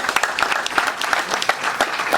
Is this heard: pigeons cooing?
no